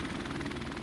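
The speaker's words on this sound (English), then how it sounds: "Friendly helicopter on the way!" Helicopter rotor and engine drone in the video game Modern Warfare Remastered, a steady, fairly loud whirring chop that holds unchanged for under a second with no voices over it.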